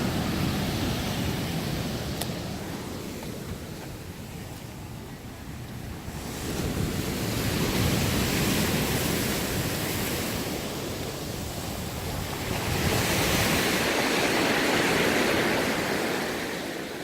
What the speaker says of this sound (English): the water's splashing all the way up on the